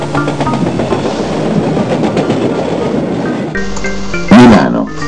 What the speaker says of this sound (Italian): Milano, stazione di Milano, termine corsa del treno.